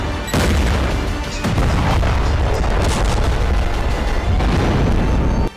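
Loud, booming blasts and crackling bursts of exploding pagers and walkie-talkies in Lebanon fill the recording, a dense run of explosive detonations with a few sharper impacts, and no voices.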